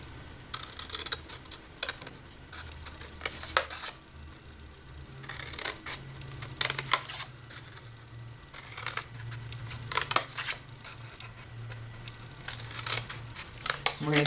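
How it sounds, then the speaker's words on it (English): Scissors snip paper up a series of score lines while making a Halloween truffle box, giving short crisp cuts in irregular bursts over a steady low hum. "we are going to cut up each of these score lines to the first horizontal line"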